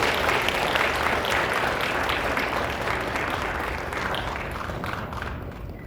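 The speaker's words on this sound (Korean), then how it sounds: "선교사님 오실 때에 박수로 맞아주시기 바랍니다." An evangelistic revival congregation at a Korean church claps to welcome a missionary, giving dense, loud, continuous applause that slowly thins toward the end.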